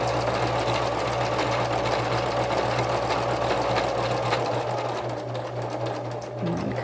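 A sewing machine stitches Christmas cards with a fast, steady, close mechanical whir that holds nearly unbroken and eases slightly toward the end.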